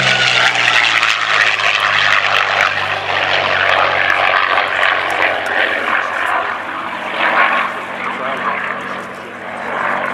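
A Curtiss P-40 Kittyhawk propeller plane runs its piston engine at Cosford, a loud, steady droning roar with a throbbing propeller note that swells slightly and holds close throughout.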